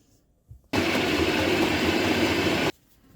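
An electric mixer whirs loudly and steadily for about two seconds while beating dough made with sifted flour, cocoa and butter, starting and stopping abruptly with near silence on either side.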